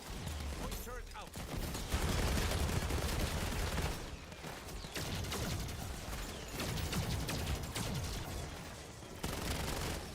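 Turret gunfire in Black Ops 7 Zombies on the Mars Cursed map, a loud continuous rattle of rapid shots mixed with explosions and mechanical clatter, with a voice talking over the din.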